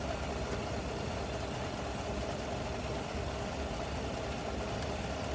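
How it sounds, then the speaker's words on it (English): A direct injection (GDI) car engine idling, a steady continuous low rumble with dense broadband hum, constant in level and with no one talking. "So let it idle for about a minute."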